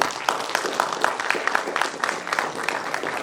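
An indoor conference audience claps to welcome dignitaries on and off the dais, producing a loose, uneven patter of hand claps at moderate loudness over a few seconds.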